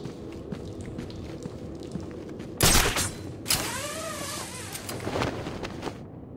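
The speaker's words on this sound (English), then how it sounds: "The gunshot came from the bell tower." A single sharp gunshot rings out from a bell tower in Batman: Arkham City, a loud broadband crack with a short echoing tail, set against a low game ambience with further rumbling and tonal effects afterward.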